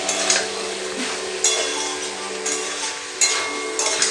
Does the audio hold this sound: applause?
no